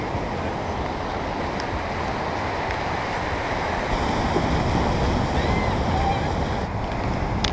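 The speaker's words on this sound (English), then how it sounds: "the waves just kept knocking me over" Ocean surf crashes against a rocky shoreline during an outdoor obstacle workout, a continuous roar of breaking waves with heavy wind buffeting the microphone, surging louder partway through.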